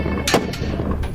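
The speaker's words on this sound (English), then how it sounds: "Bursts of small arms fire follow the sniper's opening volley" Small arms gunfire in a firefight with the Taliban in Afghanistan cracks out in a few sharp shots over a steady background roar, close and loud.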